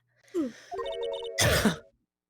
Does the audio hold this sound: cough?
yes